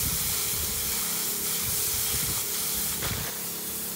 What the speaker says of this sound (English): You still got to spray the same amount on anyway.